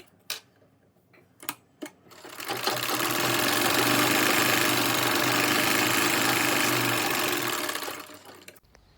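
Sewing machine stitching a folded fabric piece for a bow, a few short clicks of setup followed by a loud, steady, rapid mechanical whir for several seconds that then stops.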